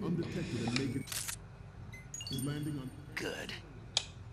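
A camera shutter in Metal Gear Solid 2 snaps a few crisp, separate clicks between stretches of voices talking.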